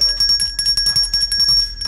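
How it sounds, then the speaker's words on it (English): A bright metallic bell is struck repeatedly in quick succession, ringing close and loud with short ringing tones between hits. "You know, hit the bell."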